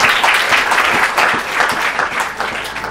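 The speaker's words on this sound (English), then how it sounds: "Just give him a round of applause." Audience applause at a young innovators event, a full room clapping loudly and close, a thick continuous patter that stays strong throughout with slight surges and no speech.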